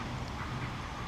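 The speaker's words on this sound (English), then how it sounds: "Hi duckies, hi ducky ducks." A brief stretch of ducks quacking faintly in a park amid constant outdoor noise and light rain.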